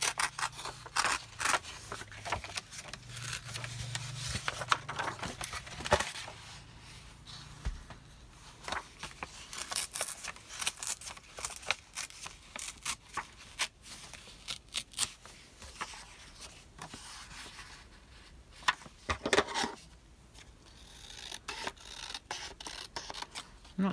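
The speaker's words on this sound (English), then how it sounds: "Okay, let me cut that down to size. I'll rip it." Paper ripped by hand while making nature journal tags, with close, intermittent tearing, rustling and scraping sounds and sharp handling noises coming in uneven bursts over a long stretch.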